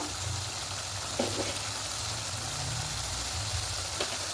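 Six eggs are stir-fried kosha-style with a little sugar in a pan, giving a soft, steady sizzle over a low hum, with a few faint scrapes of stirring.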